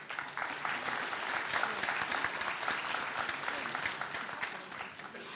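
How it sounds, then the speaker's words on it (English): A graduation ceremony crowd applauds the graduates just presented, a dense, steady clapping that stays full and even throughout. "Let us give a round of applause to the graduates who have just been presented."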